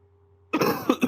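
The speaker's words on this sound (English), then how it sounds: "got a little bit of cough" A single sharp cough followed by a couple of throat-clearing bursts from a man in a close, quiet room, coming after a faint steady hum.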